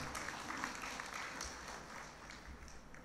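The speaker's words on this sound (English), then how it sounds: "I think we need to give him a great clap." Faint clapping from an audience at a Jubilee Mission event after an oration, a soft, steady patter of many hands heard at a distance throughout.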